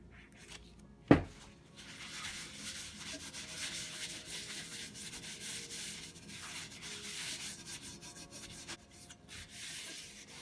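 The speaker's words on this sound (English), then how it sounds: "Now I'm going to be placing a good coat of oil, the entire thing" Oil being rubbed over a cast iron pan, the entire surface coated: a steady close rubbing and wiping sound, continuous and moderately quiet, with one sharp knock near the start.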